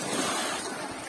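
Sea waves wash against the shore in a continuous broadband rush, close and steady, with wind noise mixed in.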